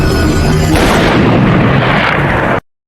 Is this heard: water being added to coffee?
no